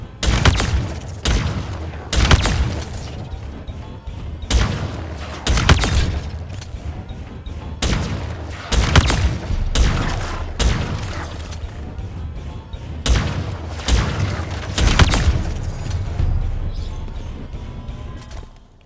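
Heatwave shotgun firing its alternate vertical-spread mode in Halo Infinite at a gun range, a rapid series of loud, sharp blasts in irregular bursts with brief gaps, no talking.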